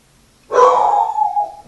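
A single drawn-out dog bark or yelp that trails off into a falling whine, loud and close, with no talking.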